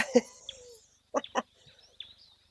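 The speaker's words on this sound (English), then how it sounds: "I can confirm that those are the baboons." Several harsh, sharp baboon calls ring out at a waterhole in short bursts, a pair close together midway, then fainter calls trailing off into quiet.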